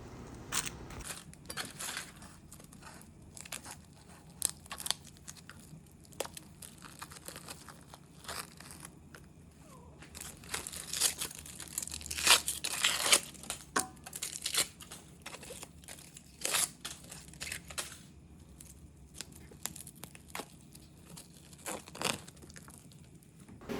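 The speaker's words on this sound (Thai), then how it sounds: "เราก็จะมาลอก แผ่นฟอยล์แล้วก็แผ่นพลาสติกออกนะคะ" Foil and plastic sheeting peeled off freshly steamed fish paste, giving repeated crinkling and crackling bursts, close and fairly quiet, with brief tearing rustles scattered through and a busier cluster near the middle.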